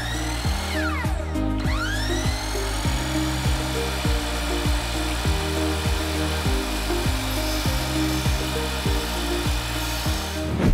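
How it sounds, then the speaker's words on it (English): Miter saw cutting a row of evenly spaced slits into PVC pipe, a whining motor spin-up followed by repeated short cutting bursts in a regular rhythm, loud and close. "But I prefer to use the miter saw because it's much quicker."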